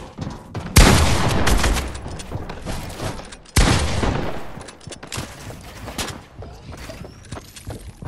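Automatic weapon bursts in Fortnite, two loud sustained volleys of rapid gunfire with smaller bursts trailing off, close and harsh.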